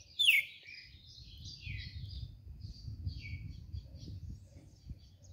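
A caged red-cowled cardinal gives a sharp chirp, then scattered softer tweets over a faint rustling and fluttering, all quiet and close.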